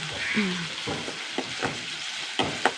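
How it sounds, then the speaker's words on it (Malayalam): Onions fry in a very hot pan on a stove for a Kerala curry, curry leaves alongside, giving a steady close sizzle with a few sharp spatula clinks and scrapes; a faint voice-like tone sits underneath. "ഉള്ളി മൂട്ട് വന്നുകൊണ്ടിരിക്കുന്നു കേട്ടോ നല്ല ചൂട്"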